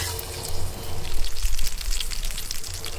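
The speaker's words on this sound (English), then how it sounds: "Get this pan on, get this oil hot. And what I'm going to do is put it skin side down." Salmon fillet laid skin side down in hot oil in a pan over campfire coals, giving a steady close crackling sizzle with scattered pops throughout, no voices.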